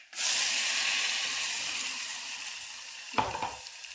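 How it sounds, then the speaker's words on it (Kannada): Ground chutney hits a hot tempering of chillies and curry leaves in oil, a sudden loud sizzle that slowly settles into steady hissing, then a few scraping stirs near the end. "ಇಷ್ಟು ಫ್ರೈ ಆಗ್ತಿದ್ದಂಗೆ ಇದಕ್ಕೆ ಗ್ರೈಂಡ್ ಮಾಡಿ ಇಟ್ಟಿರುವಂಥ ಚಟ್ನಿ ಹಾಕೊಂಡ್ಬಂದ್ರಿ"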